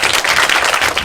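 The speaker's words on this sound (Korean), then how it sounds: "질문해 주신 청중분께 모두 박수 부탁드립니다." An audience at a Korean school students' free debate applauds the questioner: a short, dense burst of many hands clapping together, steady and moderately loud with no voices over it.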